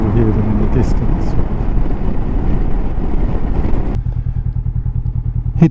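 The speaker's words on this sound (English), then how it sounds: "A bunch of bikes came by." A group of motorcycles passes nearby on a rural road in Norway, its engine roar loud at first and then receding into the distance, with wind buffeting the microphone throughout.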